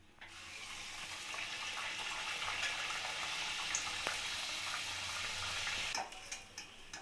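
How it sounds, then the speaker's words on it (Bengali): Pea kachoris deep-frying in hot oil in a kadai, a steady bubbling sizzle that runs for several seconds before fading into a few soft clatters. "তেলটা ভালোভাবে গরম হয়ে গেছে, এবার আমি কড়াইশুঁটির কচুরিগুলো একটা একটা করে ভেজে নেব।"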